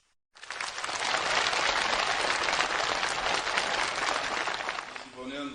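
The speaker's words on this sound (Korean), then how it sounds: "이어 참가자들의 열렬한 박수 속에 산림집 이용 허가증이 전달됐습니다." Warm, sustained applause from participants at a ceremony where forest-house usage permits are handed over, a dense steady clapping wash lasting several seconds before fading, with a voice beginning to speak at the end.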